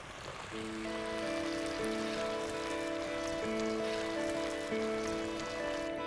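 Water is poured into a pan while veg fried rice is cooked, a continuous splashing rush lasting several seconds beneath steady sustained musical tones.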